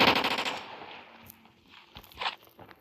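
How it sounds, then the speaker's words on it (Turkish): Rapid automatic gunfire in a Roblox game: a dense, fast burst of shots at close range for the first second, fading into scattered softer impacts and footstep-like thuds. "Silah adamı dırrrr yapıyor."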